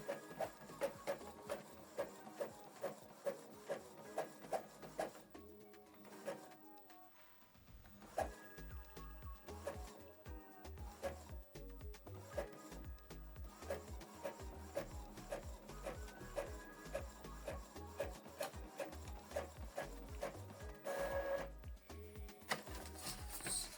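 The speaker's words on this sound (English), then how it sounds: "So these are documents we printed out." An Epson ET-4800 inkjet printer feeds and prints documents, with rhythmic mechanical clicks and whirring carriage passes, a short pause, then steady repeated printhead shuttling nearby without voices.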